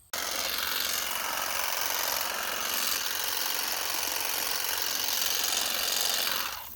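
A motorized tool whines steadily and loudly while trimming thick weeds and grass along a fence line for a goat pen, a sustained buzzing drone that tapers off at the end.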